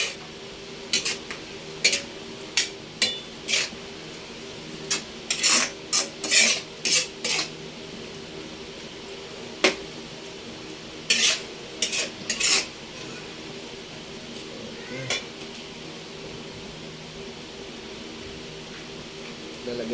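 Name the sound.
stirring beef and mushroom in cooking oil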